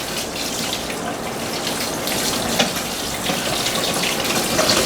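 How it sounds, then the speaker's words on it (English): Running water pours through a colander of cooked freshwater mussels and down a sink drain, a steady close rushing hiss that continues throughout with no talk. "it rinses all that stuff out and through the colander down the drain"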